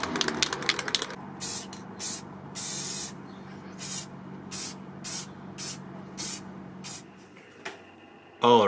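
Aerosol can spraying acrylic clear coat onto an antique horseshoe in short repeated bursts, each a sharp hiss lasting under a second, separated by quiet gaps, with some handling noise at the start.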